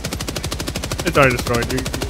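Rapid, evenly spaced gunfire rattles through Helldivers 2 combat, with someone speaking over the shots partway through.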